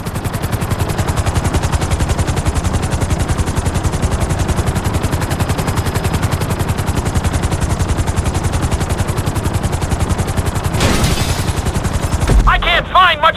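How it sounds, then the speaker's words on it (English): Helicopter in GTA 5 descending onto a helipad: a loud, steady rotor chop throbbing continuously for over ten seconds, followed by a brief whoosh and electronic game tones as it settles. "Bring the helicopter down gently onto the helipad."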